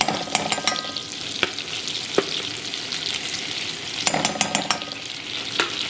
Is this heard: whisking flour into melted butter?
yes